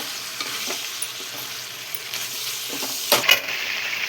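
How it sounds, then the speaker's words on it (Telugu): A spoon stirs chicken curry with garam masala in a pan, giving soft scraping strokes over a low sizzle, with a couple of sharper metallic clinks near the end, close and without voices. "ఇప్పుడు గరం మసాలా వేసుకుంటాం. వేసుకొని ఇట్లా కలుపుకోవాలి."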